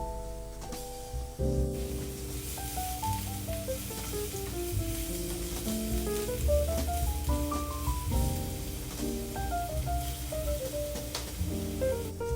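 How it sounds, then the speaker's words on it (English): Garlic sizzling in olive oil in a pan, a steady soft crackle that runs throughout beneath a melodic music track. "saute some garlic and olive oil in the same pan"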